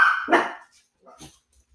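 Dogs bark close by, with two sharp, loud barks in quick succession, then a few faint, short noises and near silence.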